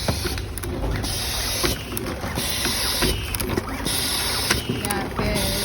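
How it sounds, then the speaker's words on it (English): An automatic tapping machine cuts threads for the screws on a gear motor's gearbox end cap, a steady mechanical whir with repeated clicking and tapping strokes, broadband factory noise throughout and a high whine above. "This is the process of auto tap."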